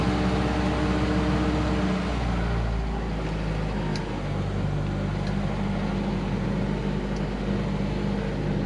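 An Austin Gipsy G4M10 with 5,600 original miles drives slowly, its engine a steady, moderately loud drone with a slight shift in tone early on, under broadband road noise with no one speaking.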